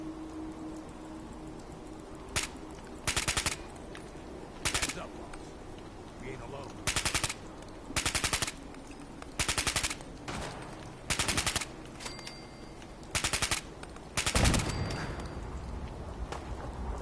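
Raiders' gunfire in Fallout 4's Nuka World, rapid automatic bursts repeating every second or so over a low game ambience, with a louder blast near the end and a player's voice occasionally present.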